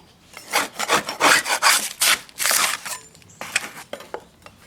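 Putty knife scraping dried caulk off a vinyl replacement window frame, with a quick series of close, rough scrapes and rubs that taper into lighter strokes.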